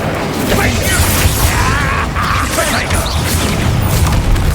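A spell goes off in Hogwarts Legacy amid dense, loud combat noise, a continuous roaring, whooshing wash of magic effects with a voice shouting over it.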